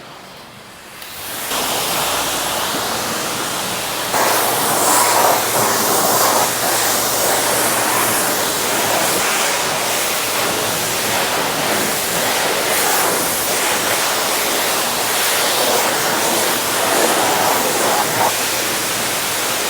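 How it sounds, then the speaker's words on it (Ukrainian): High-pressure water spraying steadily at a self-service car wash, a loud continuous hiss that starts after a brief quiet moment and runs on without pause. "Я вже не знаю, куди цю воду виливати."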